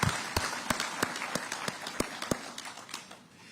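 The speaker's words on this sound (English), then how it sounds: "we give you another round of applause for that wonderful speech." An audience at a SADC summit public lecture applauds after a speech, a dense wash of clapping with several loud, sharp claps standing out near the front at a fairly regular pace, slowly easing off.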